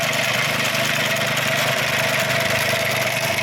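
A homemade grass-cutting mower for cattle fodder, built to cut Pangola grass across a 1.20 m width, runs its engine at a steady, loud idle close by, with a constant droning hum and no talk.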